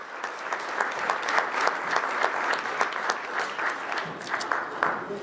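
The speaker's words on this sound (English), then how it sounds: "Give them a round of applause." Steady applause from a Kiwanis club gathering, a sustained wash of many hands clapping at moderate distance, with no voices over it.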